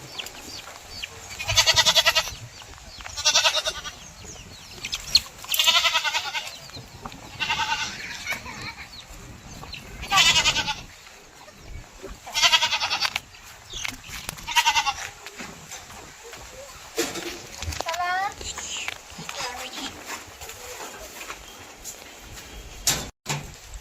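Goats on a farm in India bleat again and again, loud and close, with long wavering cries coming in irregular bursts over quieter background noise.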